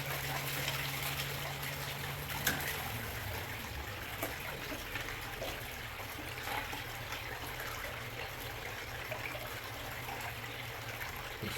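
Water from a pump runs through a gold sluice inside a garage, washing raw paydirt. A steady, close wash of trickling and splashing carries on without a break over a low, constant pump hum.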